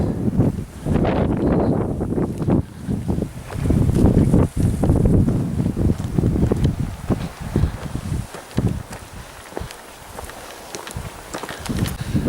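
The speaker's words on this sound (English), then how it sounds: "I thought it was going to be breezy up here, but this is more than I expected." Strong gusty wind buffets the microphone on a hilltop at Coed Llangwyfan, with loud rumbling gusts that rise and fall throughout, and occasional rustling and footsteps.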